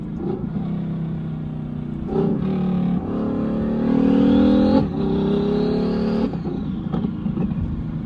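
A Ferrari 550 engine revs hard, with a rising turbo whine building over the roar before it cuts off, then revs again. Loud and close.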